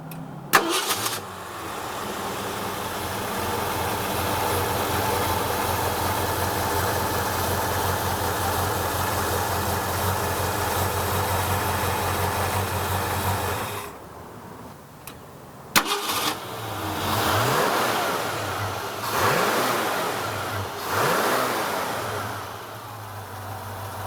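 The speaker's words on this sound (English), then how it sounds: "Let's listen to this Mustang run." A 1965 Ford Mustang engine runs steadily at idle, a brief pause before it catches again, then revs rise and fall in several swelling bursts, close and loud.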